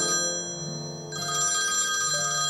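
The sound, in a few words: telephone ringing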